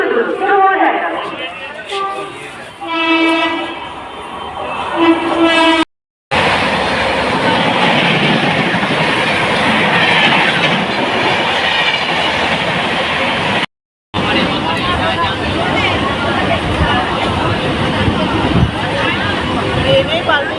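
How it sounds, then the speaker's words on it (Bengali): A train rumbles loudly through a busy Indian railway station, its heavy rolling clatter filling most of the stretch beneath crowd chatter and a platform announcement, with brief dropouts in between. "স্টেশন দিয়ে আর একটা ট্রেন আবার,"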